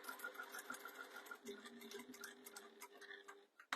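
Domestic sewing machine stitching a fabric jewellery pouch, a fast rhythmic ticking chatter with a faint motor hum, close but quiet, stopping briefly with a clunk near the end.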